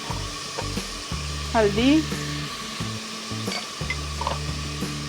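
Chopped tomato, crushed red chilli, salt and turmeric sizzle in hot oil for haleem, with a constant frying hiss and a scraping stir midway. Someone speaks briefly over the cooking.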